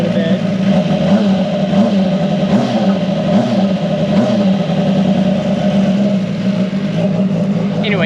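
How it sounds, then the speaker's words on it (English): Race car engine running steadily loud and close, with a few quick throttle blips rising and falling in pitch over a continuous rumble. "just set it here in the race car for a second, so I can blip it a little bit."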